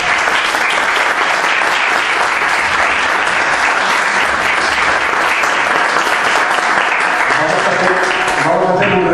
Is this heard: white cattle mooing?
no